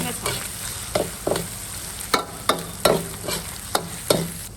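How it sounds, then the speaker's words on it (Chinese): Stir-frying in a wok: a spatula scrapes and tosses food in quick, regular strokes roughly twice a second over a steady background sizzle, close and fairly loud, with no talking. "慢慢炒"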